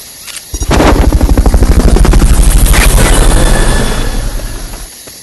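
In the video game Metal Gear Solid: Peace Walker, a helicopter's loud, rapid rotor chop pulses steadily for several seconds, swelling in and then fading, with no voices.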